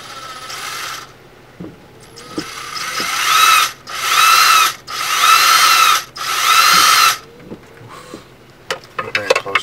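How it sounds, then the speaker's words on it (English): A power drill bores through lower dashboard trim in a 2002–2005 Audi A6 during a radio install: four steady whining bursts of a couple of seconds each, close and loud, with clicks and handling noises between. "I'm going to grab a drill, and all the way down here where you can't see it, I'm going to drill through it."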